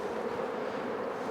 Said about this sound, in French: il y a un paquet d'abeilles, là